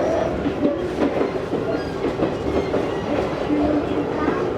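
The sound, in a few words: Izu-Hakone Railway 3000 series train running, Mishima to Shuzenji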